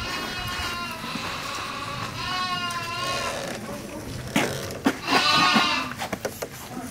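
Lambs bleat in a livestock barn, several wavering cries close by over a rough background of rustling and movement, with a few sharp knocks near the end.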